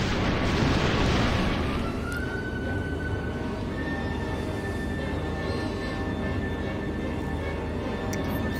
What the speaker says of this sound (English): That's a lot of turbo laser fire.